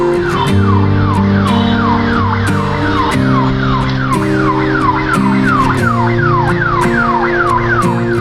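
A loud ambulance siren wails in rapid repeating sweeps, close by, over the rumble of traffic and engines on a crowded Kolkata road.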